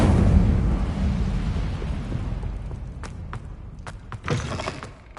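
A fire spell cast in Hogwarts Legacy roars out as a broad, rumbling whoosh that fades over several seconds, followed by a few faint crackles and a brief soft burst near the end, with no talking.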